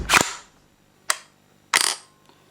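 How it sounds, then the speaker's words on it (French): A GHK Steyr AUG airsoft replica's hammer snaps on a trigger pull: three sharp, close metallic clicks, the first and last fuller, the middle one brief, with quiet gaps between. "le marteau fait un bruit absolument ridicule"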